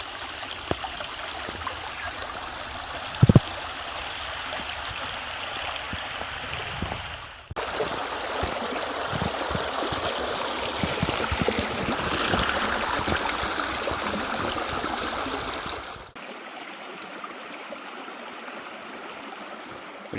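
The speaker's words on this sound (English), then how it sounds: "It's definitely water." A stream in bushland near Lithgow, NSW, flows with a steady rushing hiss that changes character twice as the listening spot shifts, at moderate loudness with no talking.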